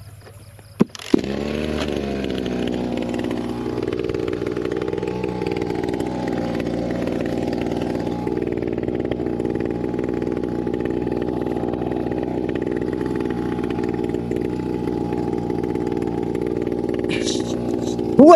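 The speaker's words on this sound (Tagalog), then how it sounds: "pandarin muna natin ang makina at samahan nyo ako mag-spray." A small motorized insecticide sprayer engine, used on eggplant in a farm field, starts with a sharp pull and then runs at a steady, loud, buzzing drone close by, with no letup.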